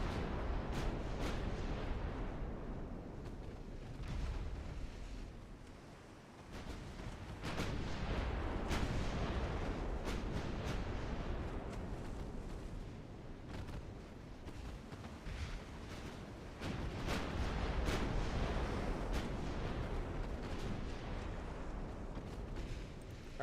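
Warship main guns fire in a naval war video game, heavy booming blasts rolling over a constant rumble of wind and sea, with a lull near the middle and no speech.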